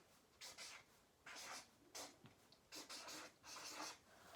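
A marker writes in another color on paper or a board, with several short scratchy strokes coming close together in bursts and brief pauses between them, quiet and near, with no voices.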